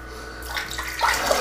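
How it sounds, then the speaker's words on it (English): Running water splashing as a Gillette Aristocrat safety razor is rinsed under a tap after a shave, a short hissing gush that swells midway and carries on alone. "Okay, so rinse off here."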